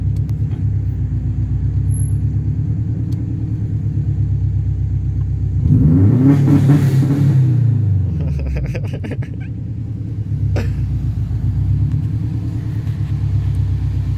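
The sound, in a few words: Subaru WRX engine with anti-lag while driving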